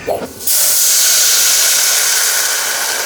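Water poured into a hot pan of black rice bursts into a loud, sustained steam hiss that starts abruptly after a brief clatter and roars on steadily to the end.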